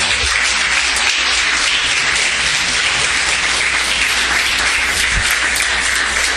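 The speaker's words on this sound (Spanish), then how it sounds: "Le puede dar un aplauso fuerte a Cristo Jesús?" Loud, sustained applause from a large church congregation, dense and steady clapping filling the whole stretch without pause.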